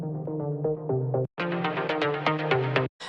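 A synth lead from an organic house track plays a tonal melody of short, plucky repeated notes in a bouncing rhythm, clear and upfront, with two brief silent gaps.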